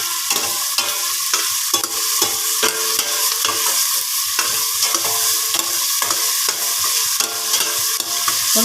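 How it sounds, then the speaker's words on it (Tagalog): Onions and garlic frying to golden brown while being stirred, a loud continuous sizzle with rhythmic spatula scrapes repeating about every half second, close up and without voices. "Halo-haloin lang natin. Medyo golden brown na yung ating sibuyas at bawang."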